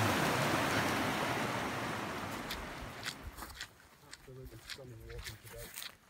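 A fast-flowing stream rushes over rocks in Glen Nevis, loud and broadband at first, then fading as a voice talks over the quieter water toward the end.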